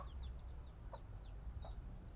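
Native chickens, including Buff Orpington and DeKalb Brown hens, give a few soft clucks and short calls over a steady low outdoor rumble, moderately near.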